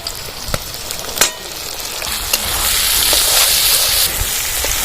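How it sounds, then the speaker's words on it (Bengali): Chopped tomatoes and onions frying in mustard paste for bhola fish curry, a loud close sizzle that swells toward the end, punctuated by sharp stirring knocks and scrapes, no talking. "এর সঙ্গে টমেটোটা ভালো করে ভেজে নেব"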